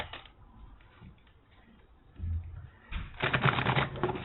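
Tarot cards riffle and flutter in a soft shuffle, building to a louder, rapid crackling burst near the end, close by with no talk.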